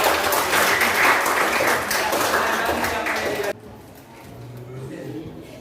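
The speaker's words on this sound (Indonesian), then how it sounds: "Tepuk tangan." A classroom group claps in a dense, lively burst for several seconds before the applause cuts off abruptly, leaving quiet room noise.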